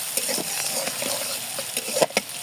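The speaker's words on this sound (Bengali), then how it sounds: "পেঁয়াজটা দিয়ে একটু ভেজে নেব পেঁয়াজটা দিয়ে ভালো মতো পেঁয়াজ ভাজতে হবে" Onions frying in oil in a home kitchen pan, a steady broadband sizzle with scattered light stirring clicks and a couple of sharper scrapes near the end, no talking.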